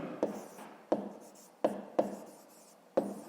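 A pen scratches out a fifth-grade maths exercise on paper, five or six short distinct strokes spaced about a beat apart, close and clear against a quiet room.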